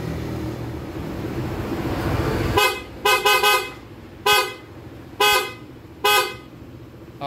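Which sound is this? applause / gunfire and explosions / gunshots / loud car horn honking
loud car horn honking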